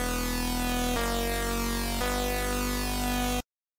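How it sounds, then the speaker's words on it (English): Layered Phase Plant synth tones forming a laser-like effect, a thick, bright sustained sound with shimmering interference patterns, retriggered twice, loud and alone before stopping abruptly. "we get a very nice laser effect."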